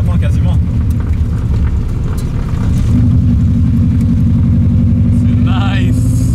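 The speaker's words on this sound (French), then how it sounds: "T'entends le turbo, hein? J'entends le turbo." Car engine with a turbo running at a steady idle, a deep continuous rumble with harmonic drone that rises slightly partway through, plus a brief whistling whine near the end; no talking within.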